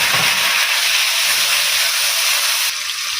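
Loud, steady sizzling hiss of tomatoes frying in hot oil for a tempering, constant and close, easing slightly near the end.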